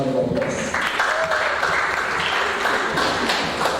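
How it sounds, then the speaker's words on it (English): Seminar audience clapping for a guest speaker, a sustained round of applause from a moderate crowd in an indoor hall, with faint voices and a brief tone mixed in. "I want you once again to please give Mr. Mikosa a round of applause"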